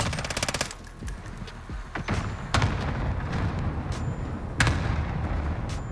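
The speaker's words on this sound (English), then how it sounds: "Enemy cluster strike." Cluster strike in a Modern Warfare match: rapid bursts of sharp explosions and gunfire-like cracks scattered across the clip, loud and close, over a dense rumbling battle backdrop.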